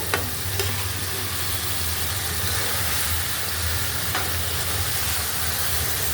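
Onion, tomato and river fish (bata) sizzle and fry steadily in a pan for a Bengali fish bhuna, with a continuous close hiss and occasional stirring scrapes, no voices.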